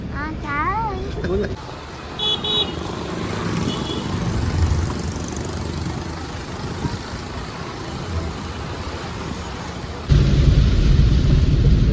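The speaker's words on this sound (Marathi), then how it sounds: "पाहताय किती तुफान पाऊस आहे लोणावळा घाटामध्ये." A loud, constant roar of heavy rain and storm noise in the Lonavala ghat on a road trip, with brief talking at the start and the roar surging louder near the end.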